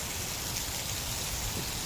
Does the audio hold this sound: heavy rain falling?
yes